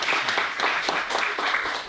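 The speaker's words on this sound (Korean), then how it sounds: "큰 박수 부탁드릴게요." An audience claps warmly, with a dense, even patter of many hands and faint rhythmic pulses, loud and close.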